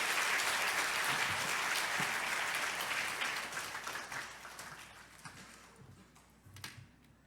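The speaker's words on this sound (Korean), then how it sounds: "우리 박수로 환영하도록 하겠습니다" Audience applause welcoming a missionary to a church gathering, a broad steady wash of clapping that gradually thins and fades toward the end, with a few scattered claps lingering.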